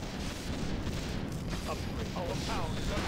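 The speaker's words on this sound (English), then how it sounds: "That's a whole lot of explosions and things going on." Dense, continuous Warcraft III battle noise with rumbling booms and crackling gunfire, steady and loud throughout, with faint voices mixed in.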